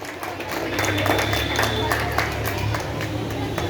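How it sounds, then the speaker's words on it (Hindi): Audience applause at a children's Independence Day dance academy program, a steady broad wash of clapping and crowd noise lasting several seconds under a faint hum. "जोरदार तालियां पुरुषोत्तम के लिए, जोरदार तालियां।"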